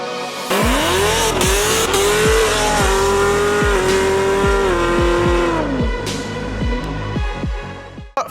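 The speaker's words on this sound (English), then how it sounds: "boy oh boy did he ever rip a burnout" A new Chevrolet Camaro ZL1 customer car with an 865 horsepower package does a burnout, its engine roaring loud and close with rhythmic pulsing and screeching tires, then dropping off abruptly near the end.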